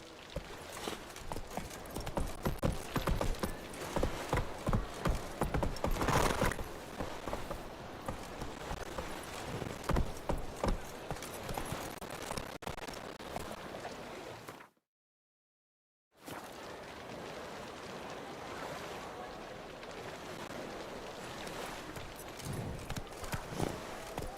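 Horse hooves clip-clop steadily in The Witcher 3 video game, a fast continuous gallop that cuts out for about a second before resuming at the same pace.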